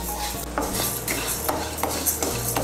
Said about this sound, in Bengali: ডালটাকে লাল করে ভেজে নেব।